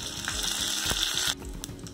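Mustard seeds, cumin and curry leaves hiss and crackle in hot oil for a tadka tempering, a loud steady sizzle that drops noticeably quieter partway through, with small pops and no talk.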